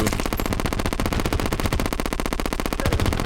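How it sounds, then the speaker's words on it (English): Rapid automatic gunfire from the SDMG weapon in the video game Terraria, a dense, steady stream of loud, evenly spaced shots running without pause throughout. "Basically just another very rapid fire gun."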